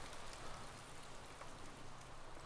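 Rain falls steadily in the survival video game DayZ, a soft, even hiss of drops on surfaces, faint and uninterrupted with no voices.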